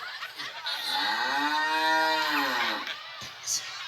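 A cow moos once, long and loud, a drawn-out bellow that swells and then fades, close by.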